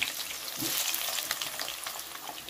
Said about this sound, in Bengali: ডুমো ডুমো করে কাটা আলুগুলোকে সুন্দর করে তেলেতে ভেজে নেব